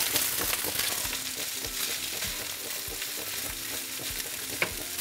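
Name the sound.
rice and cauliflower rice sizzling while stir-frying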